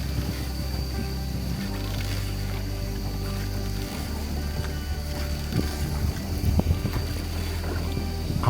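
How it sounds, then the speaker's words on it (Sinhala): A child paddles a small boat along the waterways of Ninh Binh, Vietnam, producing low, uneven water churn and thumps under a constant gusty wind rush, with no talking. "ඔන්න බලන්න රෙහාන් පුතත් දැන් හබල් ගහලා යනවා."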